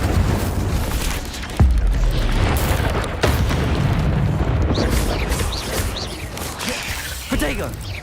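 Incendio fire spells bursting in Hogwarts Legacy gameplay: loud booming blasts near 1.6 and 3.2 seconds over a dense rumbling mix of magical effects, with voices speaking throughout.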